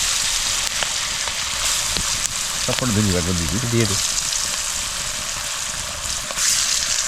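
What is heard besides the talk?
potatoes frying in hot oil for aloo paratha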